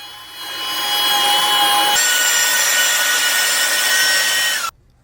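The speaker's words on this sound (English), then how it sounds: "I could swap out the router bit for a groove cutter." Bosch router table with a groove cutter bit cutting grooves into wooden rail and stile edges, a loud, steady high whine that rises as the cut begins and stops abruptly at the end.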